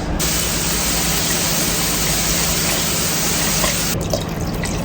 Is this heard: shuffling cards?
no